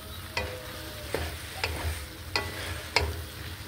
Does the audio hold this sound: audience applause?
no